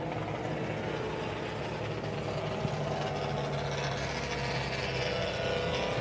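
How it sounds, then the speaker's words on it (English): Drift cars at a Super Drift Brasil event at Mega Space in 2019, including a Mustang, rev their engines in a steady, dense roar of several motors that stays fairly even and continuous throughout, with no talk over it. "all the drivers are giving us a little hello by revving their engines"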